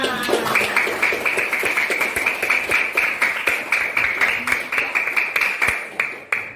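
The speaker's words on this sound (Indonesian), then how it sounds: "Tepuk tangan dulu buat kalian semua." Primary school pupils clap together in their classroom. The claps are sharp and fall in a brisk, regular rhythm, with children's voices running continuously underneath.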